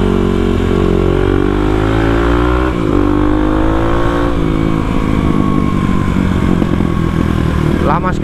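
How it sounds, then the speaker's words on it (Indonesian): A motorcycle engine, still cold and slow to warm up, revs loudly and continuously nearby, its pitch rising and falling, while a voice talks over it. "Lama sekali panasnya ini mesin"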